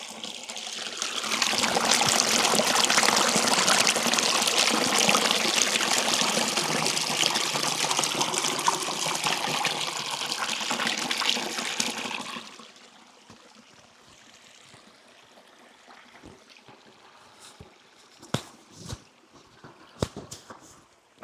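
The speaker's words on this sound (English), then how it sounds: "Give you a sound of this sort of stream as we walk past." A woodland stream in Dhoon Glen on the Isle of Man rushes loudly for about twelve seconds while passing on foot, then fades to a faint trickle with a few scattered footsteps and knocks.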